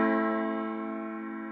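Sustained orchestral chord deliberately out of tune, with microtonal quarter-tone pitches clashing in a major-minor blend; a dense, steady held sonority that fades slightly over a second and a half, with no talk.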